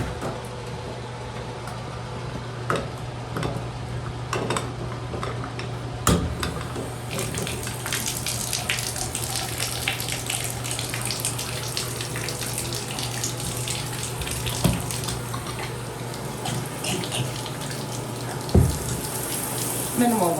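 Steady broadband hiss of water running from a faucet with minimal water pressure, continuous and fairly loud, with a low electrical hum and a few small clunks.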